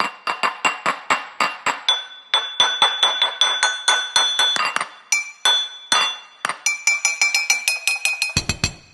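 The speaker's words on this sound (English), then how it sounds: "A bunch of glass hits." Glass objects are struck in quick succession, a long run of bright clinks and chimes with short ringing tails in an uneven rhythm, close and fairly loud, closing with a duller thump.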